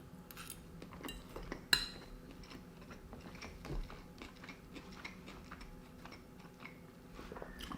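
A person chews a meal close to the mic, with soft irregular mouth sounds and scattered clinks of cutlery against dishes. There is no talking.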